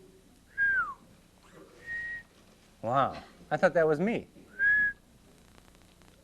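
A child whistles short, clear, high tones, some steady and some warbling up and down, in several separate bursts with pauses between them, while an adult voice speaks briefly.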